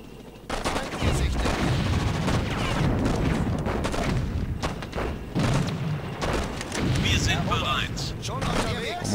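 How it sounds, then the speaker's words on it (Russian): Cannon fire and battle noise in the strategy game Sudden Strike 2, a loud continuous barrage of booms and gunfire rolling on without pause. "По моим танкам пушка отработала."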